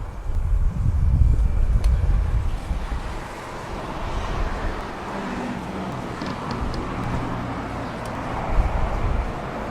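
A Komatsu PC30MR-1 mini excavator with a three-cylinder engine idles in a low, steady rumble, heaviest at first and then easing. Outdoor wind noise sits over it, and no one speaks.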